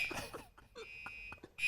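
An electronic beep sound effect, a high steady tone sounding at the start and again at the end, with a few muffled voice fragments in between.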